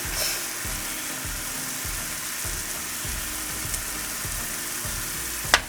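Garlic goes into onions already frying in a pan, giving a steady, dense sizzle that holds evenly throughout, close and moderately loud, with a brief clatter at the very end.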